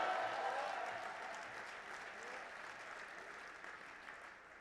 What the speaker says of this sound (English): Can we get a round of applause for the Army?